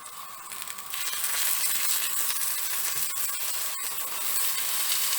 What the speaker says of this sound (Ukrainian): просто відразу обсушені баклажани викладаємо на сковорідку та обсмажуємо їх з двох сторін